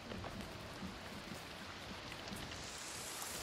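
Steady rain in the survival video game The Forest, a dense even hiss of falling drops that stays soft and continuous throughout, with no voices.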